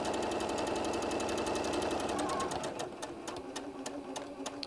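A sewing machine runs steadily, stitching off the edge of large bean bag fabric, then slows into a few separate clicks and thumps near the end.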